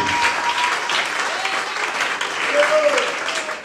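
A church congregation applauding steadily for several seconds, a dense even clapping that fills the room, with voices faintly audible underneath.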